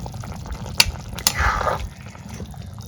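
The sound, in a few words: sweet gourd boiling in a pot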